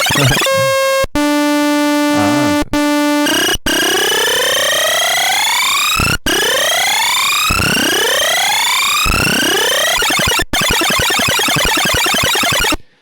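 Bright chiptune tones from a Commodore 64 SID chip glide up and down in long continuous portamento slides, loud and buzzy, broken by a few abrupt cuts between sweeps.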